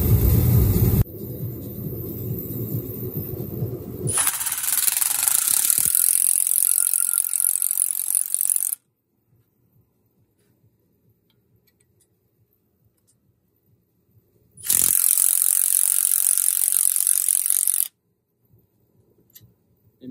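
A ratchet tightens a spring compressor on a Mini Cooper strut clamped in a vise. Loud, rapid clicking runs for several seconds, then stops for a quiet stretch, and a second short burst of clicking follows.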